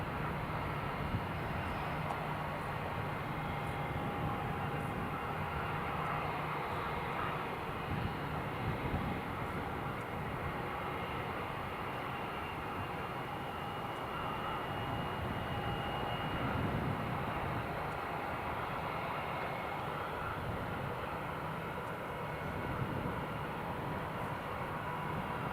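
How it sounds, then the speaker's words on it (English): A SunExpress airliner takes off at Newcastle International Airport, its engine roar a steady, broad wash held at a moderate level from start to finish, with no voices present. "Sun Express airborne."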